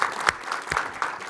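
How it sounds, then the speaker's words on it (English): Audience applause at a public revenue policy panel summit, a short burst of mixed claps rising and falling, fairly soft and slightly distant, with a few sharper individual claps standing out. "So if we give everyone a round of applause here."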